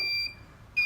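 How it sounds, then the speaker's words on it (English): Two short electronic beeps from a Sol-Ark 12K solar inverter running with no battery connected, high-pitched and steady, separated by a gap of near silence with faint low hum underneath. "So this is the sound of a Solark with no battery hooked to it."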